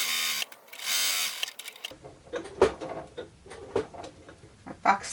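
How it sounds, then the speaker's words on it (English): Sewing machine stitching scrap fabric squares for a quilt block: a short, steady mechanical whir, then stops, followed by scattered close clicks and handling taps. "I will just put it on top of this square, and I will sew all around"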